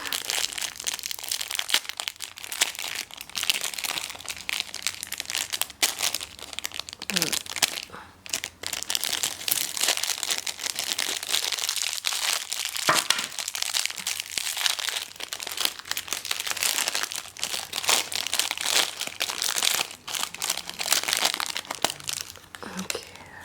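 A crinkly beauty box package is unwrapped and opened, with near, persistent plastic and paper crinkling, crunching and tearing in irregular bursts, while a person speaks softly in between.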